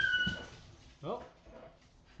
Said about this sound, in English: That's just my dog being dramatic.